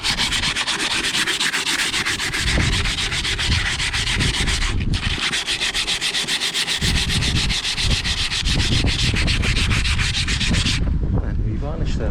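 Flaky varnish being sanded off wooden boat trim during winter maintenance, a loud continuous rhythmic rasping scrub that runs steadily for most of the clip, briefly pausing once, then stopping near the end.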